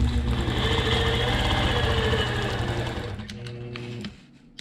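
A sewing machine runs steadily while quilting in the ditch along a seam of a dinnerplate dahlia quilt, a loud close rhythmic hum that slows and stops near the end, followed by a few light clicks.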